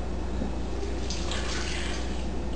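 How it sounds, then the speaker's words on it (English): A cup of boiling water is poured into chocolate cake batter of milk and vanilla, making a steady, close liquid splashing that continues throughout. "Now I'm going to add 1 cup of boiling water."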